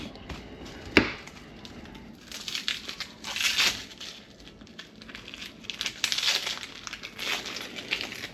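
Knife cutting a yellow onion in half on a board, with a sharp chop early on followed by quieter crunching and crinkling as the layers are handled, close-up and fairly soft.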